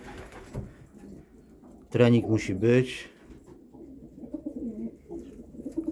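Homing pigeons coo in a loft in Szczecin, with a low burbling cooing running under a man's nearby speech and a brief louder voice in the middle.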